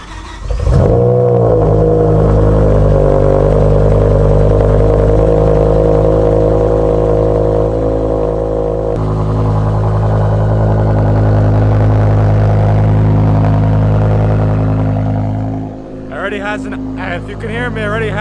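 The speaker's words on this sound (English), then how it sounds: "let's just get a cold start" A 2008 BMW M6's S85 V10 engine cold-starts, cranking and firing into a loud, steady idle with a deep exhaust rumble through an Eisenmann race exhaust, easing slightly midway; a voice speaks briefly near the end.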